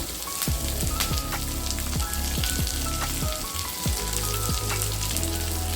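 Green chilies and curry leaves, added after small onions, fry in a little oil for Kerala-style green chili rasam, giving a steady, close, fairly loud sizzle with crackling pops throughout and no talking.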